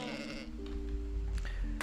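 A single drawn-out sheep bleat from a video game sounds close and clear over a low hum, wavering in pitch and ending with a brief higher note.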